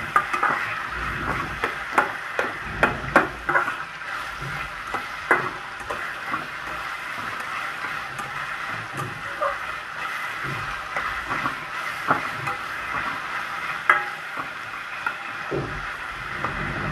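Onion, tomato, curry leaves and garlic sauté in oil under a constant soft sizzle, broken by frequent sharp clacks of a spoon stirring against the pan, heard up close.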